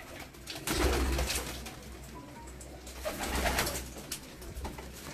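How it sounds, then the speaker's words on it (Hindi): Pigeons in a rooftop loft coo softly, pairs of birds murmuring with low repeated calls amid faint background noise and occasional wing or movement sounds. "अब ये आपको कबूतर दिखाते हैं जी, जोड़े वाले।"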